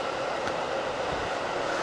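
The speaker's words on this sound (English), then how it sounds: "Now we get the loud Metra again passing us behind us." Metra commuter train passing behind a city soccer field, a loud steady rumble and roar of rail cars filling the whole stretch, close by, with no voices.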